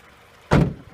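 The hood of a 2002 Toyota Camry LE lifted open, a single short metallic clunk and latch release, close and fairly loud against a quiet background.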